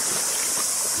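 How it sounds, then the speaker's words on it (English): Broadband rushing of water from a little waterfall cascading down a hill beside a walking track, steady and close with no talk. "the little waterfall cascades down the hill there"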